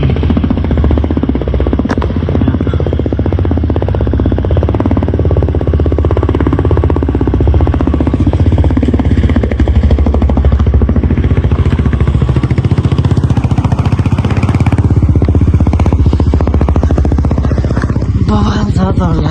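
A motorcycle labours along a rough off-road trail near Kathmandu, its engine loud, close and continuously churning with rattling clatter throughout.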